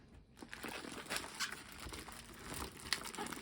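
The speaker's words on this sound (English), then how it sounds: "And start unwrapping all this." Plastic and paper packaging from a set of KiWAV Ojo motorcycle mirrors is unwrapped up close. It gives a steady, moderately loud crinkling and rustling with a few sharper crackles and no talk.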